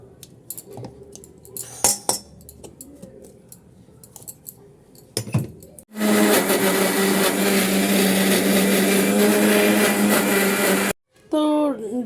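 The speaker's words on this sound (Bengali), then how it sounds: "এখানে ডালটা যে ভেজানো ছিল ওটাকে আমি এখন দিয়ে দেবো দিয়ে আর এই যে কাঁচা লঙ্কা আর আদা যে টুকরো করা ছিল ওটাকে আমি একসাথে মিক্সিতে পেস্ট করবো" Kitchen mixer grinder pulverizes soaked lentils, green chilli and ginger into paste, a loud steady whine that starts abruptly after clinks and talk, then cuts off briefly before speech resumes.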